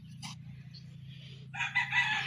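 A rooster crows in a garden full of chickens on a Filipino rural plot. One drawn-out cock-a-doodle-doo rises near the end over a low steady hum, with faint clucks and short bird calls earlier.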